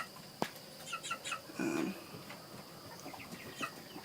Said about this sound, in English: That chicken over there by the door.